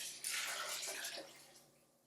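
Water poured from a measuring cup into a pot of alphabet soup, a steady splashing pour for about a second that tapers off, close by and fairly faint, with no talking.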